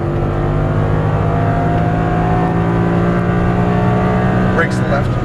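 An Audi R8 engine pulls hard after an upshift, its steady, loud droning tone holding without a break, with a brief faint squeak near the end.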